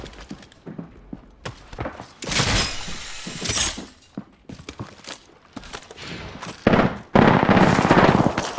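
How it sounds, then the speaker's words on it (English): Rapid automatic gunfire in the video game Apex Legends, fired in loud, close bursts and sustained volleys with sharp cracks and shattering hits between them. "They're shooting at me."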